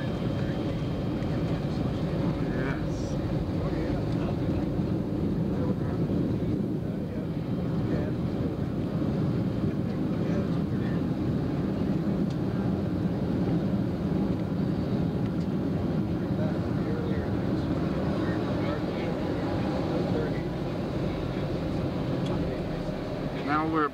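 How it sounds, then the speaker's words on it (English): A military aircraft taxiing after touchdown at Tinker Air Force Base, Oklahoma, in 1988, heard from inside as a steady, loud low rumble and engine drone that holds throughout. "We're about to taxi."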